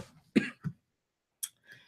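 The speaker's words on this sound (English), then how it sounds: "I apologize to keep coughing." A few quiet, short coughs in quick succession, followed by a pause and another faint cough and breath, recorded nearby in a quiet room.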